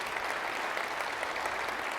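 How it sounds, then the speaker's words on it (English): Steady, dense applause from a conference audience at an energy engineering opening session, a continuous crowd clapping that holds at even loudness throughout with no voices over it. "Give yourself a round of applause."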